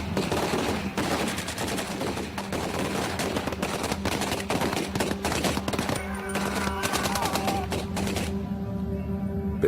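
A German machine gun fires on D-Day during the Second World War, rattling in rapid, sustained bursts of loud shots that continue almost without pause before trailing off.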